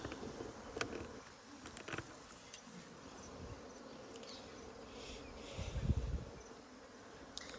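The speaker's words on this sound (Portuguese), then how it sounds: "É tão linda as abelhas." Honeybees buzzing around an open hive in a hollow tree trunk during a rescue, a faint steady drone with a few louder passes close by, no talk.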